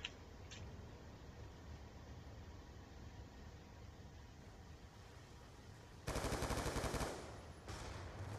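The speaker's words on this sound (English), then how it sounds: "See, he's shooting up through the wall, through the floor." Gunfire in a multiplayer shooter video game: a steady bed of distant, faint shooting and ambient noise, then a loud burst of rapid automatic fire near the end followed by another short burst, with no talking.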